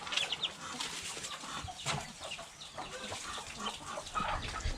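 Backyard chickens, raised alongside ducks, cluck in quick scattered calls at close range over a faint rustling and watery background, with no talk.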